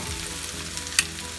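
Peppers sautéing in oil in a pan, a steady soft sizzle and crackle throughout with one brief sharp pop, heard close and alone.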